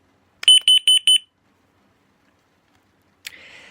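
Raholy carbon monoxide alarm with LED display sounding its test beep: four quick, loud, evenly spaced high tones, then silence, followed by a short click and faint rustle.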